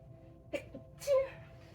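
A single close sneeze, a short sharp intake followed by an explosive burst, with a faint low hum in the background.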